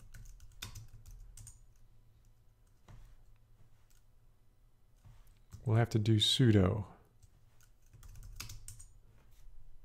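A netstat command is tapped out on a Linux computer keyboard in quick, soft clicking bursts close by, with a voice speaking briefly in the middle.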